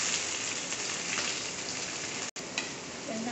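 Onions sizzling steadily in hot oil in a pan for tomato curry, a dense continuous frying hiss that holds throughout, with a brief break near the end.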